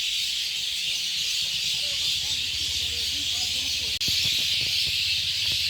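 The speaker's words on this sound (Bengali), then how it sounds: "গোধূলি লগ্নে পাখিরা যখন নিড়ে ফেরে, তার কিচিরমিচির শব্দ দেখেন।" Many birds chirp as they return to roost at dusk, a steady, dense twittering wash running throughout, with a voice talking over it and a brief break partway through.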